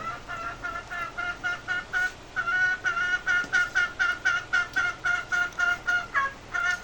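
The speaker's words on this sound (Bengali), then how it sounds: "গরমে মুরগি দেখেন গরমে মুরগির অবস্থা" Chickens cluck in hot weather in a steady, rhythmic series of close, fairly loud clucks, one after another with no talking.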